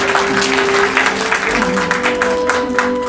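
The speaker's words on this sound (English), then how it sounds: "Maya, give Maya a nice round of applause." Steady, dense applause from a magic show audience in a museum, loud and continuous throughout, with a faint tonal hum underneath.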